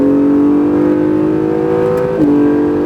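An Acura NSX on a racing circuit drones loudly at steady revs, then a quick downshift blip briefly raises the engine note before it settles again, close and alone with no talk.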